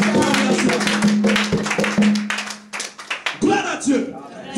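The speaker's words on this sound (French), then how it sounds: "Je veux que tu acclames le Seigneur fortement." A church congregation claps loudly and rhythmically in praise, the sharp claps mixed with voices and a sustained tone from a singer or instrument, fading into scattered claps and speech near the end.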